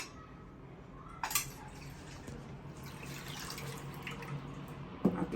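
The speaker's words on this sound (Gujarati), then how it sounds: "આ રીતે આપણે એનું પાણી બધું માખણને ધોવાનું છે." Homemade butter being washed in water, with soft sloshing and trickling at low volume, a couple of sharper splashes or clinks near the start and end, and no talking.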